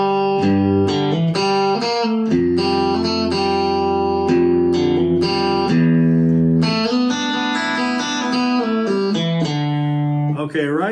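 Electric guitar playing the intro riff of a song, a steady run of picked chords and single notes that rings out loud and close throughout with no talking over it.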